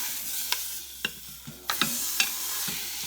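Meat browns in a pot for cola pot roast with a soft, steady sizzle, broken by several sharp clinks and scrapes of a utensil stirring close by.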